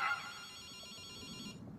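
A phone rings in the video game Ghostwire: Tokyo, a bright electronic trilling ring that carries on for over a second and then cuts off, with no one talking over it.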